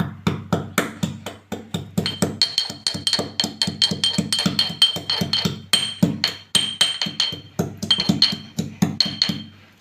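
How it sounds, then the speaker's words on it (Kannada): Ginger crushed for masala chai, pounded in a steady run of sharp, close knocks that repeat rapidly for the whole stretch, with no talk. "ನೀರು ಕುದಿಯೋಷ್ಟರಲ್ಲಿ ನಾನು ಸ್ವಲ್ಪ ಶುಂಠಿ ಜಜ್ಕೊಳ್ಳೋಣ."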